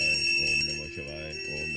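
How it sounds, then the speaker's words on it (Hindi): A small prayer bell rings steadily in a room, its bright metallic tone sustained and shimmering through the whole moment, fairly close and without talk over it. "ये क्या, ताऊ के कमरे से घंटी की आवाज?"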